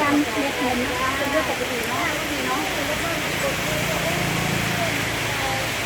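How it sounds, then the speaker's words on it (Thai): Steady heavy rain hisses and splashes continuously while someone talks over it throughout. "แต่ฝนก็ยังคงสาดอยู่"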